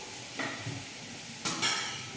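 Food fries in oil in a pan at a home stove, with a low continuous sizzle broken by two brief scraping stirs, moderately close and with no talking.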